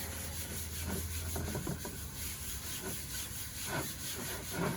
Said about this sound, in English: I'm actually just going to go over it and rub through any bits that are left just to get rid of any debris using a random motion